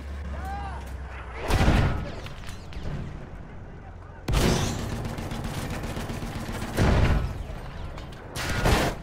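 Loud booming shots ring out in the Battlefield 1 video game, a few heavy blasts spaced apart over mechanical rattling and clanking, with game voices heard in the background.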